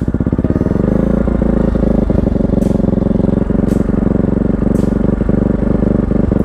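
A Kawasaki-Bajaj Rouser NS160 fitted with an Akrapovic exhaust holds a steady, loud, close rev around 3000 RPM, its exhaust note pulsing evenly throughout.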